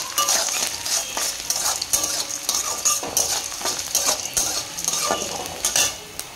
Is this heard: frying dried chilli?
yes